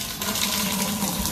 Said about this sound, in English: We've got water coming out of the faucet